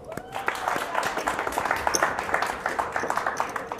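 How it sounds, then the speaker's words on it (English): Scattered applause around a poker final table in a casino, a brief round of clapping with dense overlapping claps that run steadily throughout, mixed with background chatter. "Give Cindy a round of applause."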